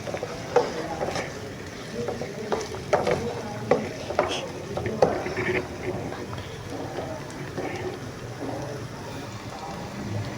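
Ingredients for a turnip (shalgam) dish being stirred and fried in a pan over medium heat: a steady sizzle with repeated scraping and knocking strokes of the spoon, fairly close, with no talk over it.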